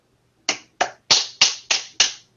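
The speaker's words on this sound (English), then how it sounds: "I was clapping my hands." Six sharp, crisp hand claps in a steady rhythm, close and clear in an otherwise quiet room.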